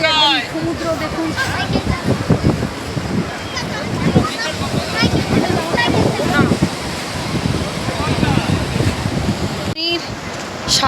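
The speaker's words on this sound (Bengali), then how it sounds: "সি বিচের কাছেই সমুদ্র, একদম সামনেই।" Sea waves breaking at Digha beach, a loud continuous surf wash mixed with heavy wind buffeting, while a person talks over it close to the microphone.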